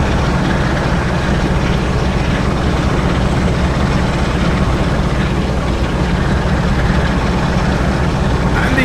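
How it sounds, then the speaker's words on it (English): A BR Class 45 diesel locomotive in Train Sim World drones steadily from inside the cab, a loud, unbroken low-pitched engine rumble with rain-like hiss and no talking. "we'll just listen to the train engine as we're going along"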